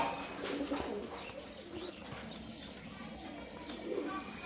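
Getibaj pigeons coo during a courtship display, soft rolling coos rising near the start and again toward the end over a quiet, steady background hiss.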